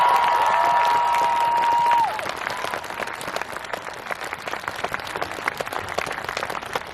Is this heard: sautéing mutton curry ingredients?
no